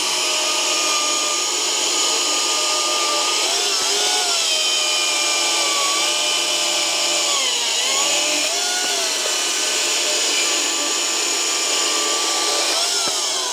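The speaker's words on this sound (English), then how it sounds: "the Cramer is certainly the faster chainsaw of the two" A 70cc Kramer chainsaw cuts through wood at full throttle, its loud, steady high-pitched engine whine dipping briefly as the chain bogs in the cut, then recovering, continuous and close with no voices.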